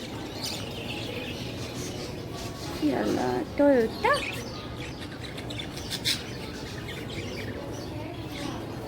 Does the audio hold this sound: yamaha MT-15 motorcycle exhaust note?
no